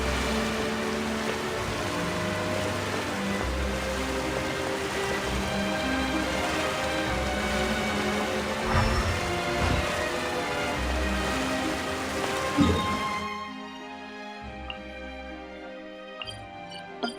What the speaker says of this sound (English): This heavy rain